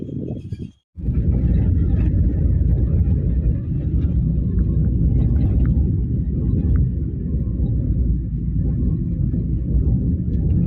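Inside a moving Uber car, a steady low road and engine rumble runs throughout at a fairly loud level after a brief gap near the start, with no one speaking.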